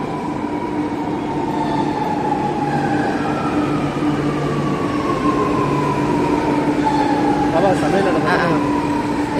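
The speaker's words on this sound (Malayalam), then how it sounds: "ചെന്നൈ മെട്രോ ഞങ്ങൾ കയറാൻ പോവുക" A Chennai Metro train hums along with a steady rumble and gliding electric motor whines, plus a few brief chimes near the end.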